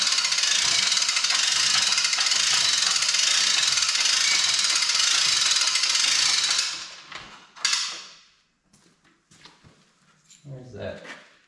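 Ratcheting jack cranking up the front of an Ariens riding mower on flat ground, a dense rapid clicking mechanism sounding loud and steady for several seconds before stopping, followed by scattered softer clanks and handling noises.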